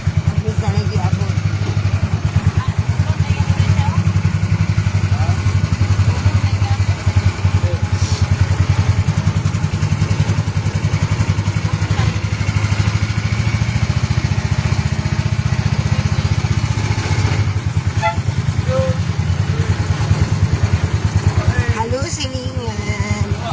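A motorcycle engine runs continuously for the whole stretch, a loud, steady low rumble close by, with people talking faintly under it.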